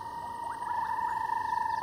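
Bubbling kassina frogs call in the distance with soft rising bloop notes, several in quick succession, heard over a steady high trill of other frogs and insects at night.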